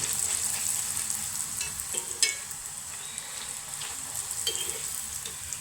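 Puri fries in a shallow amount of oil, giving a continuous close sizzle with small crackles and a few soft utensil taps, at moderate loudness without speech.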